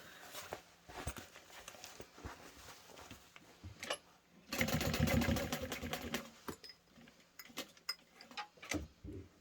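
A sewing machine stitches a backpack handle with bursts of rapid mechanical ticking and whirring, stopping and starting, with one longer, denser run in the middle, close up and fairly quiet.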